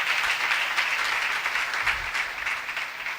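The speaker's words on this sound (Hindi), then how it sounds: "आओ उन शहदा के लिए भी जोरदार तालियां बजाएं।" A church congregation applauds loudly during a sermon, many hands clapping together in a thick, continuous wash of sound. It stays steady and fairly close throughout, with no one speaking over it.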